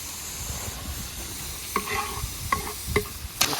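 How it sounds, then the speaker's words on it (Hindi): Finely chopped tomatoes hit a pan of golden fried onions for dhaba-style Pindi chhole, giving a steady close sizzle broken by a few clattering stirs with a spoon, with no talking. "अब इसमें ऐड कर देंगे हम टमाटर जो हमने बारीक काट के रखे हैं।"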